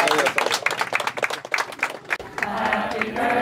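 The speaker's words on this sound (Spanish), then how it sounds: "Un fuerte aplauso a su cumpleaños de Antonio." Applause and clapping for Antonio's birthday, a senior adult, with dense claps and some cheering voices throughout, then a steadier noisy crowd wash near the end.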